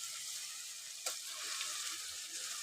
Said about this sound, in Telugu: ఇప్పుడు చికెన్ యాడ్ చేసుకున్నాం కదా, ఇది కూడా మంచిగా మనము ఆయిల్లో ఒక 5-10 మినిట్స్ మంచిగా ఇట్లా ఉడికించుకోవాలి చికెన్.